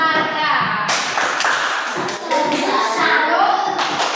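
A primary school class claps together in a rhythmic salute clap, several quick bursts of hand claps close by and fairly loud, with children's voices chanting along over them.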